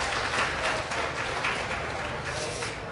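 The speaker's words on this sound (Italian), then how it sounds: "Un grande applauso" Audience applause at an awards ceremony for the RiLL trophy at Lucca Games 2013, a steady, dense patter of many hands clapping throughout, fairly distant and even in level.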